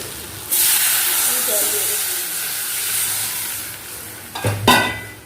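Water hits a hot frying pan with a loud sudden hiss that settles into steady sizzling and steaming, followed by a couple of sharp clattering stirs near the end.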